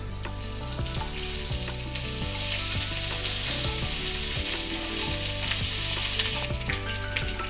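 Asafoetida, cumin seeds and curry leaves sizzle and crackle in hot oil, a steady loud frying hiss with scattered pops, heard alone without talk.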